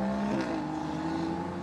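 Heavily modified BMW M5 with a tuned exhaust revs loudly and close by, a sustained droning engine note that climbs and shifts in pitch with no talk over it.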